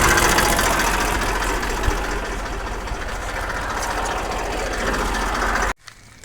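A tractor engine idles close by with a steady, loud low rumble and faint knocking, then cuts off abruptly near the end.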